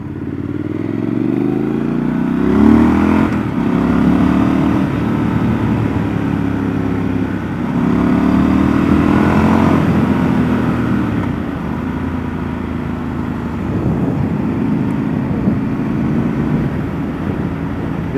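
Triumph motorcycle on a test ride, either a 1200 Scrambler or a Tiger 900 Rally, its engine droning loud and steady throughout with rising and falling revs and rushing wind, no talk.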